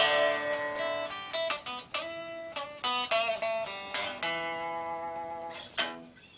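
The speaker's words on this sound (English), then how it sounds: "what you just heard is my 2010 Ibanez RG3EXFM1 with some brand spanking new DR11 gauges" A 2010 Ibanez RG3EXFM1 electric guitar strung with new DR 11-gauge strings plays a quick, bright clean run of plucked notes and chords, ringing out alone with a held chord at the end.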